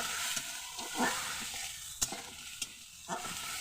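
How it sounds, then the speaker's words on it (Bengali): Masala spice paste being fried and stirred in a pan, a soft steady sizzle broken by a few sharp scrapes and taps of the spoon against the pan, with no talking. "এবার ভালো করে কষিয়ে নেবো মশলাটাকে আমি যাতে কাঁচা গন্ধ না থাকে"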